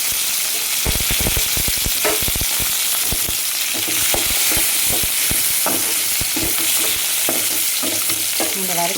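Garlic cloves, ginger pieces, shallots and a green chili fry in hot oil for a kola urundai kuzhambu, giving a loud, constant sizzle broken by repeated close spoon scrapes and stirring knocks, with no talk.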